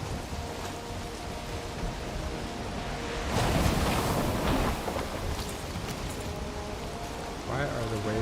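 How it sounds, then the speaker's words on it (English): In the video game Valheim, waves slosh and crash against a wooden ship in a steady, dense wash of surf noise, swelling louder midway through, with low creaks and a brief rising tone near the end. "Why are the waves damaging my ship?"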